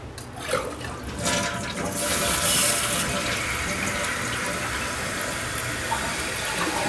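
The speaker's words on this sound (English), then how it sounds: "I'm going to go ahead and flush it." A toilet flushes after a new flapper is fitted: a loud, steady rush of water swells, then settles into a continuous refilling hiss, heard alone and close.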